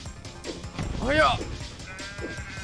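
A sheep in the video game DEEEER Simulator lets out a single wavering bleat, faint and brief amid game noise.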